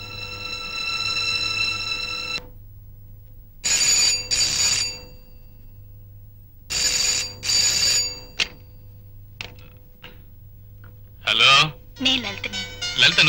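Telephone ringing in repeated loud electronic bursts with gaps between them over a steady low hum, followed by a person speaking.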